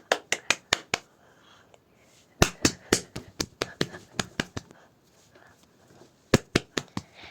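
Children clapping their hands in a group activity: sharp, distinct claps in quick bursts of about five, spaced by short pauses, close and clear with little else in between.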